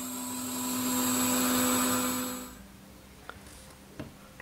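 A lathe machines the inside diameter of a raw cast brass ring gear blank glued to a holder, a steady whining hum for about two and a half seconds that then cuts off, leaving faint clicks and light handling noise.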